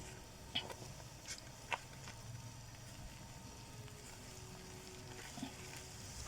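Corn flour is stirred into boiling water in a pot, giving a soft continuous bubbling simmer with a few faint scrapes and clicks, quiet and steady with no voices.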